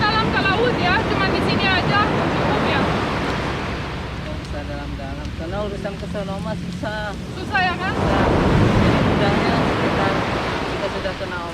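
Ocean waves wash onto the beach at Pelabuhan Ratu amid gusty wind buffeting the microphone, a loud continuous surge with swelling rushes, while people talk and call out over it.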